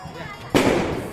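A Diwali firecracker set off during a family celebration gives a single sudden loud bang with a rumbling tail. Faint voices can be heard before the blast.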